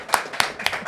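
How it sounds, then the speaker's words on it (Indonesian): Hands clap in a podcast studio. Three sharp, close claps ring out at an even pace in under a second. "Tepuk tangan dulu dong."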